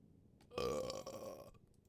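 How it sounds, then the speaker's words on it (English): A single loud, drawn-out burp lasting about a second, close to the microphone, rising abruptly from near silence and trailing off. "Burp."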